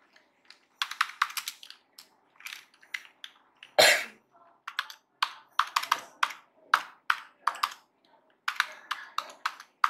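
Typing on a computer keyboard, quick bursts of close, crisp key clicks in irregular runs with short pauses and a single louder tap.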